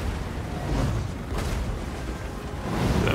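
In the Warhammer 2 video game, a cannon hit explodes amid a dense, continuous roar of battle, with a sharper burst partway through before the rumble swells again.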